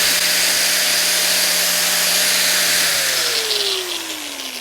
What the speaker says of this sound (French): On va essayer avec la disqueuse.